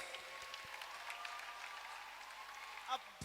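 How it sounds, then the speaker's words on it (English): An audience at a cathedral gathering applauds, a steady, fairly distant patter of hand clapping sustained for about three seconds, with faint voices underneath. "let's give a powerful hand clap to Mr."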